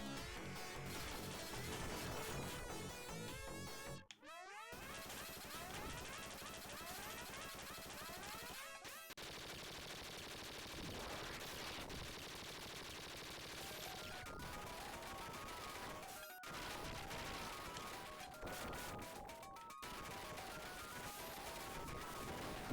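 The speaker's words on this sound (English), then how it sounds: "Missiles seem to work much better against those guys." Rapid weapon fire and explosions from missiles blasting enemies in the 1994 Ultracore side-scrolling shooter, a dense continuous barrage of bursts over game music, with a few brief silent gaps.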